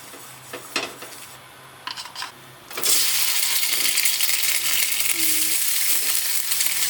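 Tofu pieces hit hot oil in a pan and burst into a loud, steady sizzle that carries on without a break, after a few clinks of utensils at the start.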